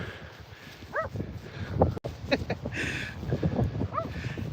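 Dog barks on an outdoor walk, a few short sharp yelps with whining harmonics rising over footsteps and ambient street noise, fairly close, no talk.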